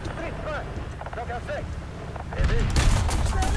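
A CV-90105 light tank's main gun fires in a video game, a loud booming blast that lands late after a stretch of rumbling engine noise and speech, with a rushing tail following the shot.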